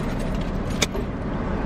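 A car's engine idles steadily with a smart start system, a low continuous rumble close by with a brief metallic jingle partway through, no voices.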